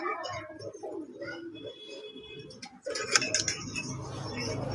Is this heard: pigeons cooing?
yes